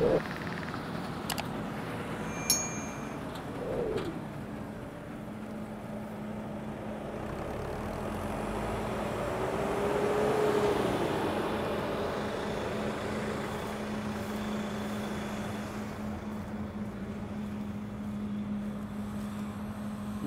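Older New Holland farm machinery hauling grain during a harvest drives past with a low, steady engine drone that swells to its loudest near the middle and then fades back to a distant rumble.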